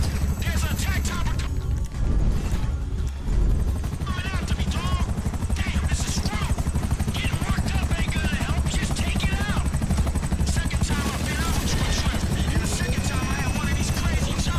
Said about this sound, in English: There's an attack chopper.